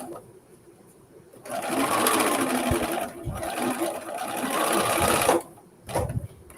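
A sewing machine runs close and loud, stitching and back stitching a jeans seam in two sustained runs with a brief pause between, then a short final burst.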